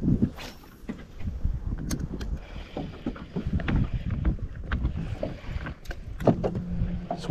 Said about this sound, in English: if this wind would quit